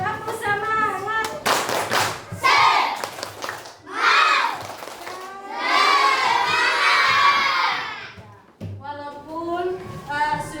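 A class of schoolchildren in an Indonesian classroom clap in rhythmic bursts and shout a spirit chant together, loud and close, with a sustained cheering stretch in the middle and brief pauses between rounds.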